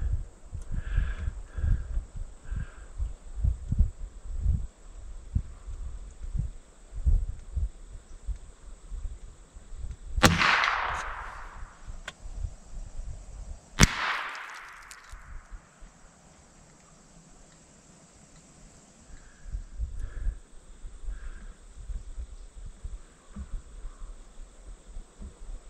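Two sharp, loud rifle reports fired from a 1942 US Springfield M2, spaced a few seconds apart, each decaying quickly over faint outdoor insect and rustling ambience.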